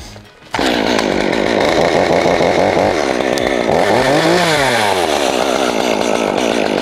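A chainsaw roars to full throttle and cuts through a tree limb, loud and close, its engine pitch dipping and rising steadily as it bites into the wood, with no talking.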